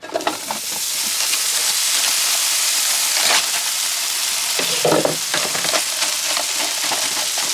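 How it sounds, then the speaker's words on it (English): Carne asada searing in a hot pan in an RV kitchen, a loud, steady hissing sizzle that swells after the meat goes in, with occasional stirring scrapes. "Carne asada into the pan."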